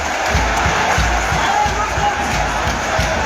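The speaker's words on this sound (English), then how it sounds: "An applause from the fans." Football supporters in the stands at a Liberia versus Sierra Leone match, a dense, steady roar of crowd noise with scattered clapping and low thumps, loud and continuous throughout.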